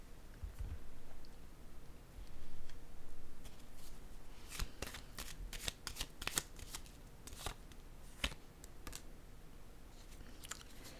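A tarot card laid down on a table during a reading, a quiet shuffle and papery slaps in a burst of short crisp contacts, close and fairly faint.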